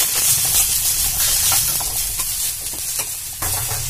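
Tomatoes tipped into browned onions in a hot pan, a loud close hissing sizzle with bursts of steam and stirring scrapes that settle slightly toward the end, no voices.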